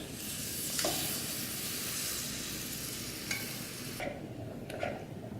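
Tamarind juice poured into a hot pan for a tamarind ginger pickle with dried dates hisses into a steady, close sizzle, with light stirring clicks scattered through it.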